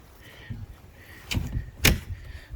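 Cab doors closing on an Everun ER1000 articulated loader with telescopic boom, heard as two solid thuds about half a second apart, the second louder, with a faint mechanical hum between them.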